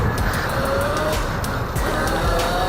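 An E-BOX 2 electric pit bike with an upgraded controller whirs loudly and steadily under hard throttle during a wheelie, a continuous high electric-motor whine with road and tire noise close by.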